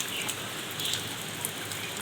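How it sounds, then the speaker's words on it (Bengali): Steady rain falls in a stormy rainy-season downpour, a dense continuous hiss of drops striking surfaces, with a few sharper individual splashes standing out close by. "সকাল থেকে শুরু হয়েছে, হয়তো ঝড়ে বৃষ্টি হচ্ছে।"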